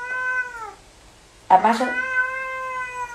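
Cats meowing close by: one long, drawn-out tonal meow that fades, then a brief word spoken, followed by another sustained, strained meow bordering on a caterwaul.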